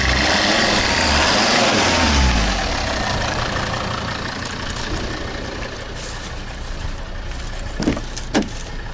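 A 2014 Volvo XC60 engine runs loud and close, its steady drone holding high revs and then settling toward idle, with a couple of faint knocks near the end.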